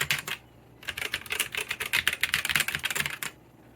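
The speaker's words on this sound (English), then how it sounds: "Unlubed red optical Gateron," Typing on a keyboard fitted with unlubed red optical Gateron switches: rapid, close clacky keystrokes in quick bursts, a short run, a brief pause, then a longer steady flurry that stops abruptly.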